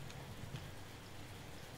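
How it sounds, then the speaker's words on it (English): Steady rain falling in the video game Spore, a soft, even hiss that continues unbroken throughout with no talk over it. "It's raining."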